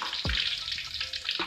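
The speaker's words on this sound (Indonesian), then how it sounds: "kita lihat ini Bro Putra lagi bikin nasi goreng guys buat anak-anak yang ada di sini" Nasi goreng fried rice sizzles steadily in a hot pan, a dense, loud frying hiss broken by a couple of sharp clanks from a utensil striking the pan.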